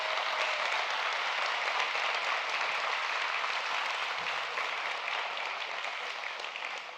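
A large audience at a Spirit of Hope event applauds in a steady, dense wash of clapping that holds for several seconds and fades slightly toward the end, heard without any talk.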